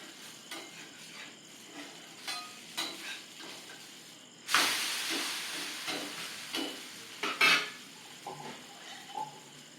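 Adai batter sizzles and hisses in groundnut oil on a hot griddle, a steady frying crackle with a louder burst of sizzling when more batter or oil hits the pan, plus faint scraping.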